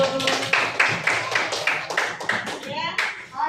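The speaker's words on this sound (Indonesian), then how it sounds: "kasih tepuk tangan dulu" Classroom applause from a group of students, a few seconds of brisk, somewhat uneven hand clapping close by, with children's voices mixed in.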